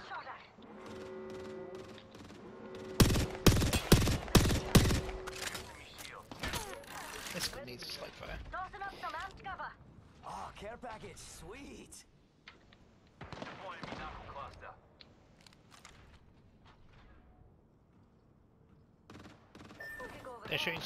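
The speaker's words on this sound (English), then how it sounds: "They're shooting somewhere else entirely." Video game gunfire pops off in quick bursts of rapid shots, loudest early on and scattered later, mixed with distant shooting while players talk over it throughout.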